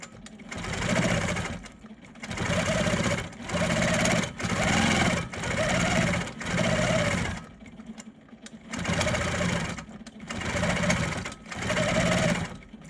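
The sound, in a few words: sewing machine free motion quilting hexagon design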